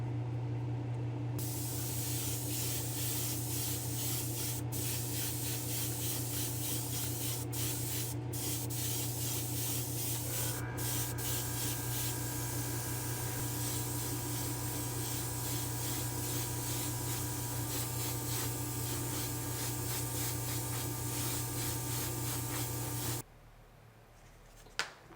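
A steady, loud hiss of candy black paint being sprayed in a spray booth runs continuously for over twenty seconds, with a constant mechanical hum beneath, then stops abruptly.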